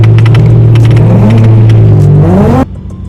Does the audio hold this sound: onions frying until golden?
no